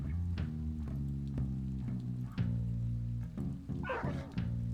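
Two dogs in the strategic roguelike RPG Blightstone yelp and whimper in short bursts over a steady, droning game music bed, with a brief higher flurry near the end.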